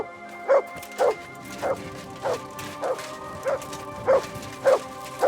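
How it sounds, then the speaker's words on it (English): A dog in the medieval video game Kingdom Come: Deliverance II barks repeatedly at a steady pace, about ten sharp, loud, evenly spaced barks over a low background hum. "Benish's howling is driving me crazy."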